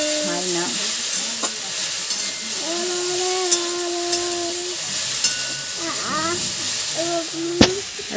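Okra stir-fries in a pan with a loud, steady sizzle and hiss, punctuated by a few sharp utensil clicks, while a voice and other faint sounds carry on underneath.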